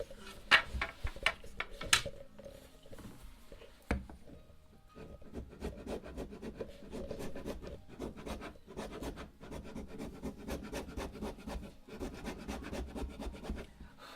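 A rasp files across wood in a series of rough, scratchy strokes, close and fairly quiet, with irregular rhythm and short pauses between strokes and no talking.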